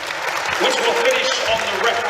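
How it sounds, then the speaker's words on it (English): Stadium crowd applauding at a Premiership Rugby semi-final between Saracens and Harlequins, a steady dense clapping wash held evenly throughout, with a commentator's voice talking over it. "a moment of applause for Tiffany, who so sadly died this week"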